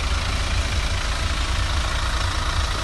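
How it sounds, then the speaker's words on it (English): Car engine idling, a steady low rumble with constant loudness throughout, close and alone with no talking. "The engine area where obviously the engine's been running since the start of the video."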